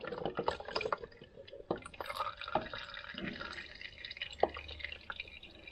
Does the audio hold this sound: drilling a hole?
no